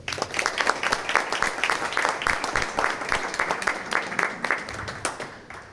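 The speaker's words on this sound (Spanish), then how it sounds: "Un aplauso para él, por favor." Audience applause breaks out for a historian at a Guatemalan book presentation, a steady wash of many hands clapping across the room, dense and even throughout before fading slightly at the end.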